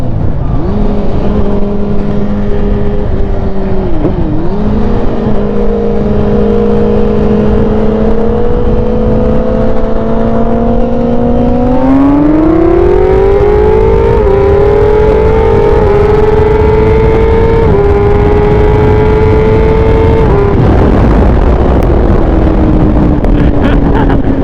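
A BMW HP4 motorcycle with a Woolich tune roars close and loud as it accelerates hard, its engine note climbing steadily, shifting, then pulling on again under heavy wind rush.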